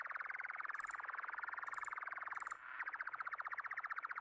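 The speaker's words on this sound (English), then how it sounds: "Now it's birds." A radio signal in the video game Signalis gives off synthetic bird sounds: a fast, buzzing trill with high chirps on top that cuts out briefly partway through, then resumes.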